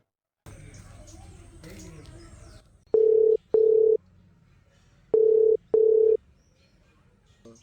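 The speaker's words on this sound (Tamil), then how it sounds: "அவன் முதல்ல அவனுக்கு ஃபோன் அடி, நான் என்னன்னு பேசுகிறேன் அவன்கிட்ட" Telephone ringback heard while calling someone: two pairs of clear electronic beeps over a quiet line, following a stretch of muffled background noise and voices.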